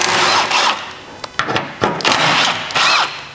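A power tool whirring in short bursts while skid plate bolts are removed from under a 200 Series Land Cruiser LX570, close and loud with brief pauses between runs.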